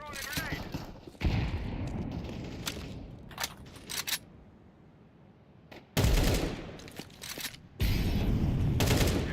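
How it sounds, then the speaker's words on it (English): Counter-Strike 2 match with bursts of gunfire and sharp impacts, including a grenade blast among the firing, loud and close, broken by quieter gaps; players talk over it. "I'm throwing a grenade."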